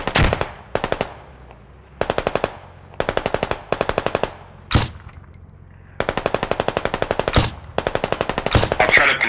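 Heavy machine gun in the military shooter Squad firing loud, close bursts of rapid rounds, several separate strings of fire broken by short pauses and a few single sharp cracks.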